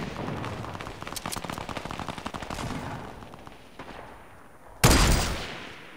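Rapid gunfire rattles in a Fortnite match, a burst of repeated automatic shots up close, then a pause and one sharp, loud blast that decays.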